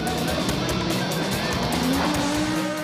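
A rally car races on ice, its engine loud and continuous and its tyres skidding. The noise wavers as the car slides through the stage.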